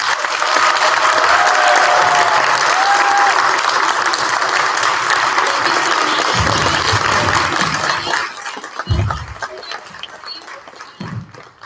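Sustained audience applause closing a student panel at a college state-of-the-college event, dense and steady for about eight seconds before thinning into a few scattered claps and faint voices.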